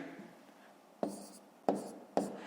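A pen writes numbers on paper while working a long division problem, three short scratchy strokes spaced apart over a quiet background.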